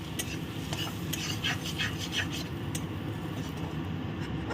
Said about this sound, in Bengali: এটাকে আরেকটু ভাজা করে নিচ্ছি বাটারে